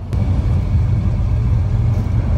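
Low, heavy rumble of a truck rolling over a rough, bumpy road, heard from inside the cab as a steady, loud drone with faint rattles and knocks.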